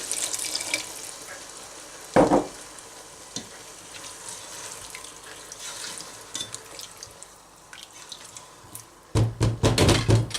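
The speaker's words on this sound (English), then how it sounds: "Gonna add half a cup of water." Half a cup of water poured into chilli con carne simmering in a pot, a brief splash and sizzle against the hot mince, then a quieter bubbling simmer before another burst of sizzling near the end.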